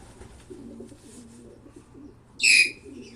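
Pigeons kept by a breeder coo softly and steadily close by, with one brief, louder burst near the end.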